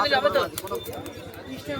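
Low, soft pigeon cooing in a repeating throaty rhythm at a bird market in Birnagar, mixed with other birds and someone talking over it.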